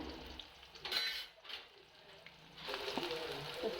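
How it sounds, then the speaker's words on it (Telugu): Onions frying in oil in a home kitchen pan, with a soft, steady sizzle and occasional utensil clinks throughout, faint and close, with no talking. "ఆయిల్ వేసి ఉల్లిపాయలు వేసుకోవాలి."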